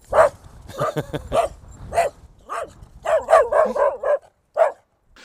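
A dog barks in short, loud bursts close by, some yips spaced irregularly with brief pauses, nothing else around.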